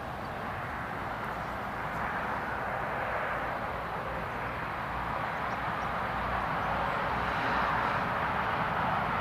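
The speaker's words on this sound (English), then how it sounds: "we've got the KLM Embraer 175. There she is. Just coming in from Amsterdam." A KLM Embraer 175 airliner landing at Newcastle International Airport after arriving from Amsterdam, a steady broadband engine roar that swells slowly as it approaches, heard from a distance outdoors with no talking.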